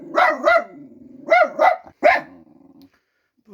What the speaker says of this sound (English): pausing my camera for a minute to calm my dog down